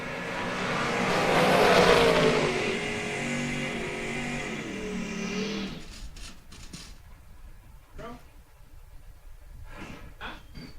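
Drag racing cars, an Olds Cutlass and a 1967 Camaro, launch and roar down the strip, a loud engine blast that builds and fades into scattered crackles and pops.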